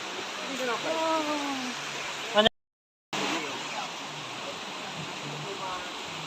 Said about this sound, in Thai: น้ำใสไหลเย็นมาก